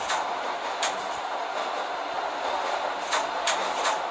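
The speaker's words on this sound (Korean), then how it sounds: "자 지금 새로운 역에 도착을 했고요 자, 열차를 안전하게 세워보도록 하겠습니다." A subway train arrives at a station in the video game Subway Simulator 3D, a steady broadband rumble of rolling cars with a few sharp clacks from the wheels, even and moderately loud throughout.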